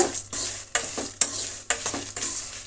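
Whole spices dry-roasting on a low flame for Brahmin-style bisi bele bath powder, with repeated scraping stirs of a spatula in the pan over a soft steady sizzle, several sharp strokes in a row.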